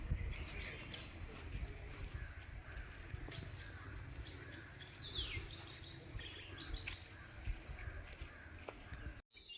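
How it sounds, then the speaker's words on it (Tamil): Birds singing in a forest in the BRT Hills, scattered chirps and tweets over a low rumbling background, with an occasional caw from farther off. "இங்கே இருக்கக்கூடிய இந்த இனிமையான பறவைகளுடைய ஓசை"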